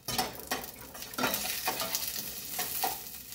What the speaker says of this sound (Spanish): voy a agregar el ajo y la cebolla. Voy a sofreír un poquito.